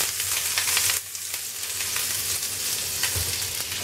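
Butter sizzles and crackles steadily in a hot crepe pan, close and fairly loud, with a brief clatter early on and a soft bump near the end, no voices.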